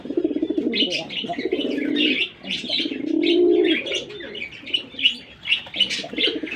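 Fancy pigeons at a pigeon farm coo in low, throaty rolling phrases, close by, with brighter chirps and twittering layered above throughout.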